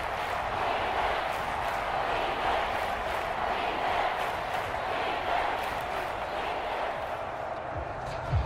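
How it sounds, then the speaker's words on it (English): A stadium crowd in the Madden 23 football video game, Giants at Commanders, cheering as a big third down approaches: a dense, steady, distant roar lasting several seconds, with faint commentary voices beneath. "the crowd getting into it as we come up on a big 3rd down"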